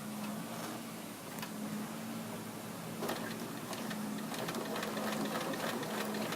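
Bernina sewing machine stitching an iPad case, a steady close mechanical whir with a fast ticking needle rhythm, running continuously with small clicks on top.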